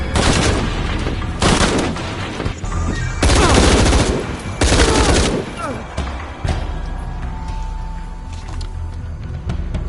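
Gunfire in the video game Tomb Raider, loud bursts of rapid shots and heavy booming volleys in several separate waves, with quieter rumbling between them.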